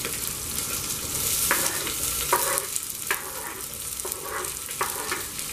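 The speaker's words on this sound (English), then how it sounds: "You have to fry the onion until the raw smell goes" Onion frying in a pan with dry chilies and curry leaves, giving a dense, continuous sizzle with irregular scraping stirs of a spoon, close and fairly quiet, without speech.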